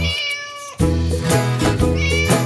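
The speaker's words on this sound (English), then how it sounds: "As Molly the mouse started to sing, Alfie the cat said, "You're disturbing."" A cartoon cat in an animated children's song gives several loud, drawn-out meows in a row, close and clear over bright musical backing.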